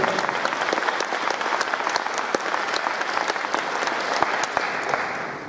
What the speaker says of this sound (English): Huge round of applause, come on.